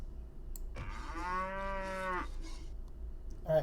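A cartoonish cow moo from a video game card being played, one drawn-out tonal call with a steady pitch, clear and close over a low background hum.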